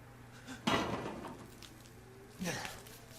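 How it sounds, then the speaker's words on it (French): Two short clanks of a pot lid being lifted in the Resident Evil 7 demo, one sharp and one softer, with a brief hollow metallic ring in a quiet room. "Là, il y a une casserole, on peut l'ouvrir."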